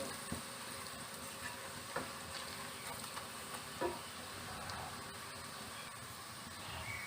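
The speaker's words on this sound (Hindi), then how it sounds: "वन टीस्पून क्यूमिन ऐड करेंगे। इसे फ्राई करेंगे।" One teaspoon of cumin seeds fries in a pan, giving a faint, steady sizzling hiss. A few soft pops and clicks are scattered through the quiet sizzle.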